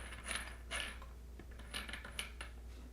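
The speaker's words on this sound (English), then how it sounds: "we're going to put our RA nut back on" RA nut being threaded back onto the shaft of an EQ6R-Pro telescope mount, faint light metallic clicks and taps scattered over several seconds, close and quiet.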